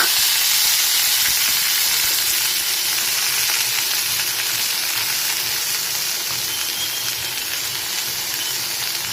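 Garlic and green chili sautéing in a pan with coriander leaves for a chutney, a loud, close, continuous sizzle and hiss that eases slightly toward the end.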